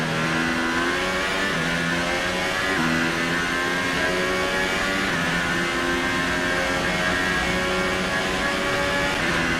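An F1 2018 race car engine in a video game, revving high and steady throughout with shifting pitch bands, loud and continuous with no talk.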